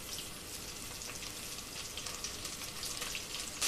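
Soya chunk biryani with mint and coriander frying and being stirred in a pan, a steady close sizzle and crackle throughout with faint scraping, no talking.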